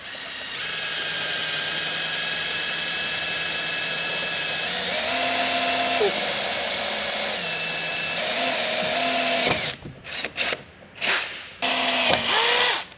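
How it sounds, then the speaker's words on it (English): A power drill bores pilot holes into a 2022+ Toyota Tundra for a roof rack install, its whine steady and close for about nine seconds, shifting pitch as it loads, then a few short bursts trailing off. "And then we'll just go ahead and pilot our holes."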